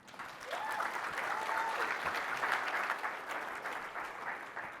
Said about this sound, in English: give a round of applause for Anthony, who's going to go show us the future of work